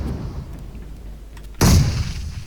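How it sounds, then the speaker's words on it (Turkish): A grenade goes off in a PUBG Mobile match with one sudden, loud, low boom about halfway through, trailing into a rumbling decay over a quiet game background. "Bomba attım"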